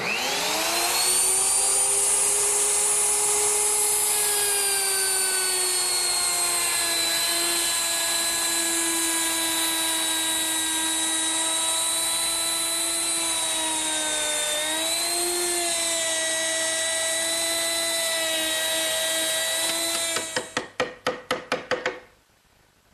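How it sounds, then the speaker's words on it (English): A router fitted with a 3/8-inch rabbeting bit cuts a rabbet around a narrow wooden board, a loud, steady high whine that holds for about twenty seconds and then spins down with a few final clatters. "I use my router with a 3/8-inch rabbeting bit. And I'll just plunge in and go around."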